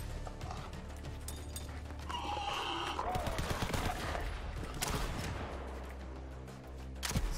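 Shotgun blasts in Borderlands 3, several loud booming shots with sharp onsets scattered amid busy game action and clatter, with a few quieter stretches between.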